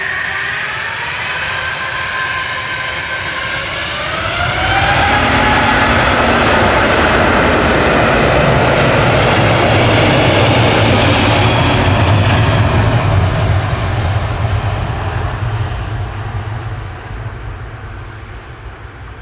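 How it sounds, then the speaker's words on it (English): A Cathay Pacific Airbus A350-900 airliner departs Manchester Airport, its jet roar swelling to a loud, broad rumble, holding, then slowly fading into the distance. "Cathay Pacific departing now back to Hong Kong with flight 216"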